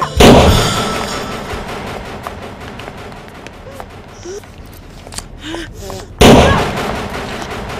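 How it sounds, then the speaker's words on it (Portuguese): Gunshots ring out in a tense dramatic scene. A loud burst comes at the start and another near the end, with gasps and breathy vocal sounds in the quieter stretch between. "Atira, Frida! Atira!"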